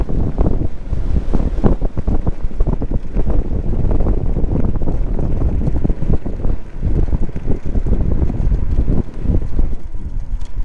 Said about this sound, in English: there's a decent amount of wind, so this is going to be a good test